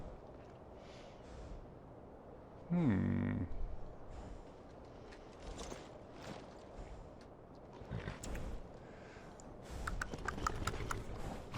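Horse hooves clop in bursts amid Skyrim game sound effects, with a low growling roar early on and scattered rustling impacts after it.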